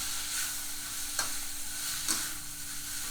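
Tomatoes stir-fried in a pan for northern Thai nam prik ong, a steady close sizzle broken by two sharp scrapes of the spatula against the pan.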